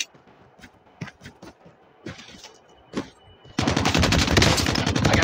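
Gunfire in Call of Duty Mobile on the Alcatraz map: scattered single shots and short bursts, then a loud sustained burst of automatic fire close by.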